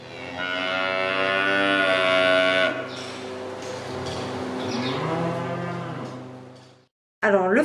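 Dairy cows on a farm in Lozère moo loudly and close by, one long drawn-out call followed by a lower, rougher one, then a short start of another call at the end.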